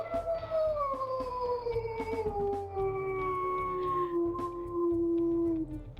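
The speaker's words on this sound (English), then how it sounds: "We'll also listen to her howls here." Wolf howls from the WolfQuest video game: a long, smooth, slowly descending tonal howl held for several seconds, fairly loud over a low ambient background with no talking.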